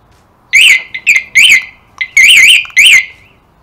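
Security alarm fitted to a 1986 Kawasaki Ninja 600 streetfighter motorcycle blares close and piercingly loud in five or six short warbling siren bursts separated by brief gaps.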